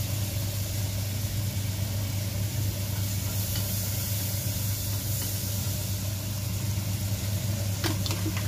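Butter sizzles in a frying pan, the first step of a canned-tuna sisig, as a steady broadband hiss over a constant low hum, with no talking.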